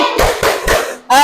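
Children clapping a rhythmic chant for Surah At-Tin in a classroom, three bursts of claps separated by short pauses, close and loud, with young voices chanting along.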